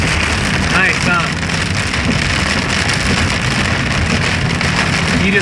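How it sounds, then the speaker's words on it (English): Heavy rain pours down during a summer thunderstorm, a dense, loud, steady roar that holds without a break for the whole stretch. "If this keeps up like this in another 20 minutes of rain like this, it's gonna flood."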